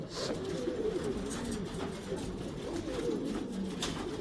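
Pigeons coo in a loft, their soft repeated calls continuous and fairly close against steady background noise.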